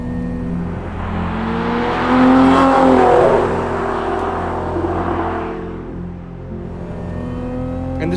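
The supercharged V6 of a Lotus Emira revs on a road drive, its note swelling in a loud rising burst with a whir, then easing into a steadier lower drone.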